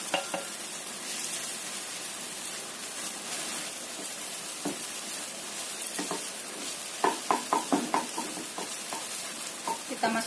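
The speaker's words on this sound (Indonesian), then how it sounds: "Kita goreng orak-arik." Scrambled eggs frying with shallots in a pan, a steady close sizzle broken by clusters of sharp scraping and stirring clicks from a spatula, busier toward the end.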